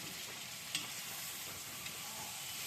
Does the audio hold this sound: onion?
yes